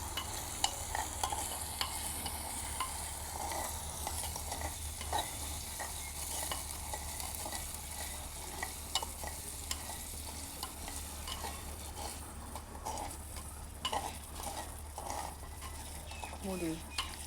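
Food being stirred in a cooking pan, a faint continuous sizzle with irregular scraping and clinks from the spoon over a quiet household background.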